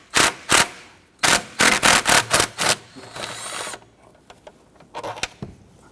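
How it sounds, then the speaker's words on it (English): A 10mm socket on an extension is worked to loosen bolts on a 2006-2010 Hummer H3 with the 3.7L engine during an ignition coil boot job. Repeated short ratcheting bursts come in quick groups, close and fairly loud, followed by quieter metallic clicks. "Use your 10mm socket and extension. Loosen and remove these."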